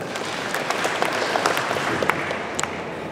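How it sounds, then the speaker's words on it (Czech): An audience at a live game-design show applauds in a scattered burst of clapping that runs steadily through the moment rather than in distinct counted claps, heard at moderate distance. "Pokud ano, tak pětkrát tleskněte."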